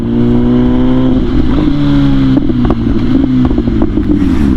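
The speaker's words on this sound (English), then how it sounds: "I'm not gonna talk during that decel crackle so you guys can hear it." An MV Agusta 1000 motorcycle with a modified exhaust, recorded close, as the engine note drops off after revving and settles into a rough idle, with irregular popping crackle through the deceleration.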